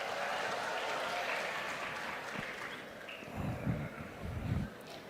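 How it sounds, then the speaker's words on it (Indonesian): An audience at an official address with regional governors present breaks into sustained applause, a steady dense clapping sound with a few louder thumps near the end. "kok yang tepuk tangan"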